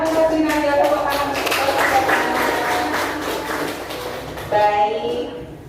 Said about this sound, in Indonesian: Terima kasih Nadia, tepuk tangan